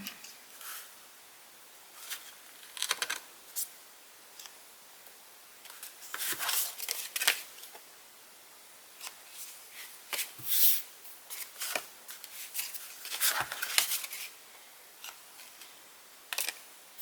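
Scissors trim a piece of chipboard for a fall-themed handmade card, producing irregular bursts of crisp snips and papery cuts separated by quiet pauses, close up, with no voices.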